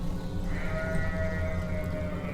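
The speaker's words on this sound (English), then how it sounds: "Yes, that is sheep you can hear in the background." A sheep bleats in a drawn-out call from ashore, heard faintly from the deck of the Fred Olsen cruise ship Borealis over a constant low engine and wind rumble.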